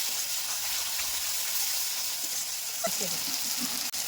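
Masala spices with yogurt and salt frying in oil in a pan, giving a continuous bright sizzle with a few soft clinks near the end and a sharp tap just before it stops.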